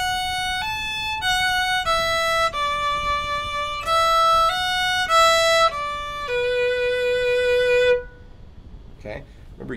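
Solo fiddle plays the opening phrase of the tune The Eighth Of January slowly, a run of clear sustained bowed notes stepping through about eight seconds, close and loud, then stopping into near silence.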